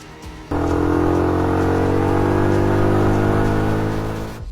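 A motorbike engine kicks in loud and close after a brief pause, holding a steady droning hum that eases slightly toward the end.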